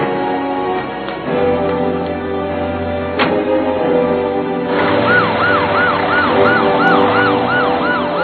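Ambulance siren wailing with a rising and falling tone over steady engine and road noise, loud and close, growing clearer partway through, with a low drone underneath and no voices.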